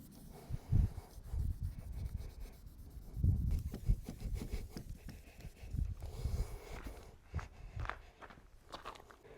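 A car headlight is polished by hand after sanding, giving close, soft rubbing and scrubbing strokes in uneven bursts, with occasional light knocks and handling noises.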